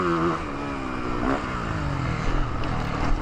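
A 2024 Yamaha motocross bike's engine drones and revs with rising and falling pitch, fairly near and continuous through the whole stretch.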